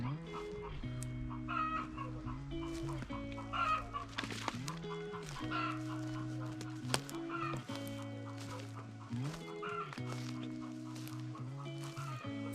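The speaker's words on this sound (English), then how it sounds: "Pens and pens and pens of chickens." Pens of chickens cluck continuously nearby, a busy overlapping chorus of hens with occasional sharper squawks and a crow in the mix.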